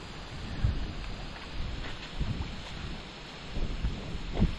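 Steady wind hisses in the background over a rice field, with occasional low thumps and bumps, fairly quiet overall.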